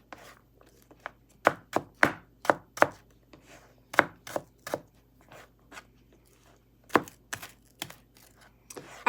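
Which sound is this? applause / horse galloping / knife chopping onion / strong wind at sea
knife chopping onion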